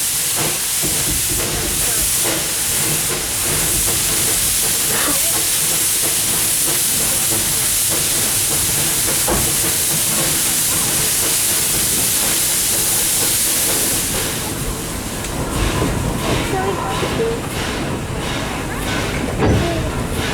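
Durbin Rocket steam locomotive hissing steadily while reversing to couple onto a caboose, a loud continuous broadband steam rush that eases off after about fourteen seconds into quieter rail clanks and mechanical knocks.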